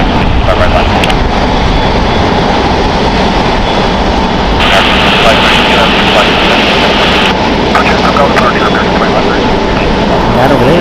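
Jet airliner noise at a busy international airport, with a Qantas Airbus A380 arriving, forms a steady broad roar throughout, with a brief brighter hiss in the middle, under continuous talk and radio chatter.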